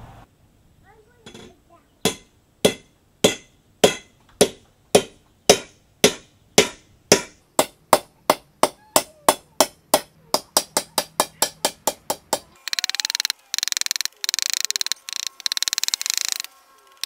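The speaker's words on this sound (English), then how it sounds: "start whacking that with a hammer" A hammer strikes wood in a steady series of sharp knocks that speed up toward the end, followed by a few bursts of rustling noise.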